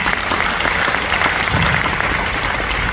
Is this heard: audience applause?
yes